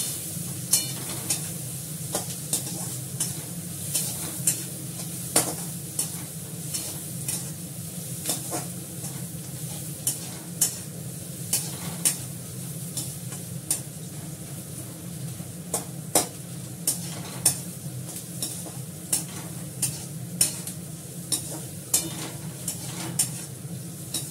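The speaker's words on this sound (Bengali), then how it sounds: "হালকা করে একটু ভেজে নেবো, তারপরে এটা ছাড়বো।" Onions fry lightly in a pan of hot oil, a continuous close sizzle under frequent clicks and scrapes of a spoon stirring against the pan, without any voices.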